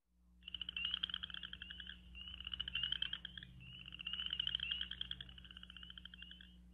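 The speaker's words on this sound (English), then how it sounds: "So we had the Western chorus frog." A recorded Western chorus frog calls in repeated rising trills, like a thumb run along a comb, in three or four bursts over a low steady hum from playback.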